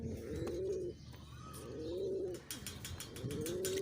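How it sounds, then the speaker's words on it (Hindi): Fighting-breed pigeons, a breeding pair, coo in three drawn-out, rolling phrases at a steady pace, close by, with faint chirps and light background noise between them. "ये बहुत अच्छे लड़ते हुए कबूतर हैं हमारे"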